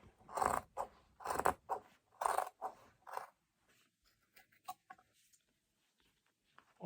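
Scissors cut through thick layers of denim jeans, giving four or five crisp, loud snips in a steady rhythm, then softer small clicks and handling noises as the cutting slows.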